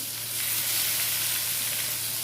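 Onions sizzle in hot oil in a frying pan, a steady bright crackling hiss with no one speaking.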